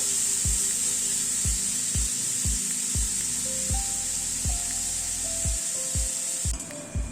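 Garlic frying with potatoes and pointed gourd in a pan over a medium flame, a steady bright sizzle throughout, broken by regular scraping strokes of a spatula, close and fairly loud.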